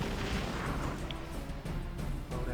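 A bazooka shot with a fire burn effect in the video game Battle Nations, a dense booming blast followed by rumbling crackle, loud and sustained with a few sharper pops.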